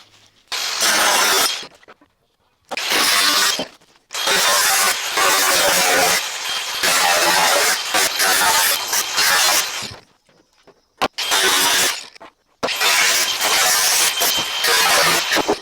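A metal car body panel is cut along a seam in several loud, harsh grinding bursts of a few seconds each, separated by short quiet gaps.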